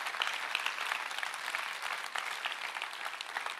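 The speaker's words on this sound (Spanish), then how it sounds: "Un aplauso al Señor," Church congregation claps, a steady mass of hand-claps at moderate distance, fairly quiet and continuous, with no talking over it.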